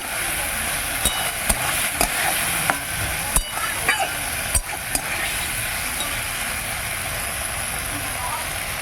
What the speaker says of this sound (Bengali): এবার আমি সর্ষে নুন হলুদ আমি দিয়ে দিচ্ছি এবার অল্প করে কষে নেব